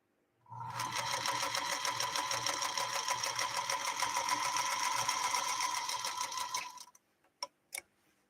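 A 1952 Singer Featherweight sewing machine runs a stitch line, a loud, even rapid needle chatter lasting about six seconds before stopping, followed by a couple of sharp clicks.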